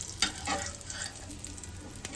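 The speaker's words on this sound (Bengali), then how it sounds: "উল্টাই দিতেছি, প্রায় ভাজা প্রায় শেষ।" Food fries in a pan just after being flipped, a close crackling sizzle with a few sharp spatula scrapes and pops over the steady hiss.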